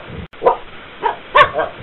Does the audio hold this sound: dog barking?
yes